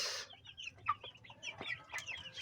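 Several broiler chickens about 45 days old cluck and squawk in short, irregular bursts at close range, with light background noise.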